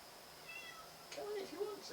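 A house cat gives faint, drawn-out meows in the background while a person talks nearby in a quiet room.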